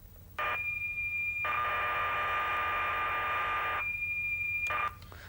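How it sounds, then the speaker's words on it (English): A computer program loading from cassette tape on an early 1980s home microcomputer: steady high-pitched data whistles in bursts, with short gaps between a brief leader tone, a long screeching block and a final short burst. "The program is in fact stored as a set of audio tones or whistles."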